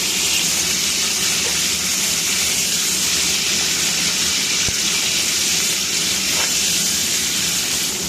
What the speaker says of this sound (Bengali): এখন ওই সেদ্ধ করে রাখা ফুলকপিটাকে ভালোভাবে তেলের মধ্যে ভেজে নিতে হবে।